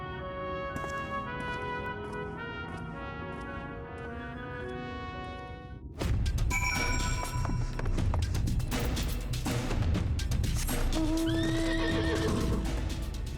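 A horse in a game neighs and whinnies loudly, and hooves clip-clop at a steady rhythm over background music, with layered game sounds joining partway through.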